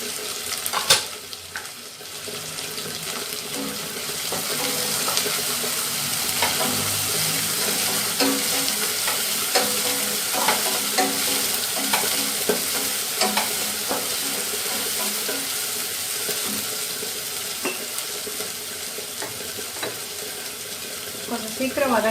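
Curry leaves sautéing in hot oil for ennai kathirikai kuzhambu, a steady broadband sizzle with scattered crackles and occasional stirring scrapes running the whole time, close and moderately loud, with no talking.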